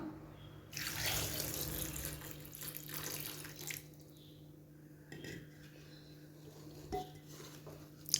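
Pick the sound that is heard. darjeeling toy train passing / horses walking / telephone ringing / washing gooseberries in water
washing gooseberries in water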